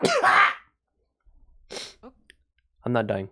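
A single sharp sneeze bursts out close up at the start, followed by brief clicks and quiet breathing, with someone speaking afterward.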